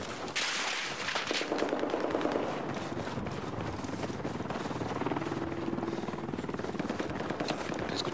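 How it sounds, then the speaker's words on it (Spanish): Helicopter in the video game Battlefield 4, a loud, continuous rotor roar that fills the whole stretch, mixed with bursts of gunfire near the start. "Escuché el helicóptero y ya me iba a decir"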